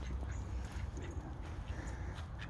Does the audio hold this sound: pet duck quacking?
yes